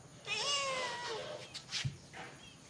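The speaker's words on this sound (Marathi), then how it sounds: "काय म्याव करतेस?" A cat meows repeatedly while wanting fish, several drawn-out close cries one after another with a short pause between them, no talk over them.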